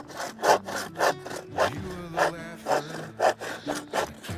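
A hand saw cuts into a small wooden log, roughly two inches across, with steady back-and-forth rasping strokes about twice a second, close and loud, with no voices.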